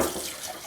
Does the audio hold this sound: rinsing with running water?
yes